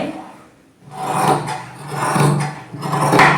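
Scissors rasping through fabric as frayed edges are trimmed for a child's skirt, three close scraping cuts separated by short pauses.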